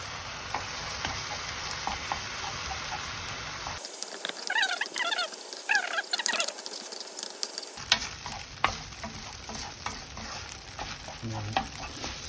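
Cup noodle ramen fried rice stir-fried over high heat, with a steady sizzle and scraping of a spatula in the pan; a middle stretch goes quieter and drier with clicks and clatter before the broad frying hiss returns, no talk.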